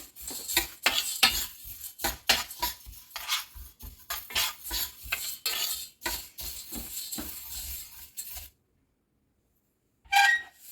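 Fenugreek seeds dry roasting and being stirred in a hot pan, with steady scraping and light rattling strokes of the utensil for most of the stretch, then a pause and one more short burst of stirring.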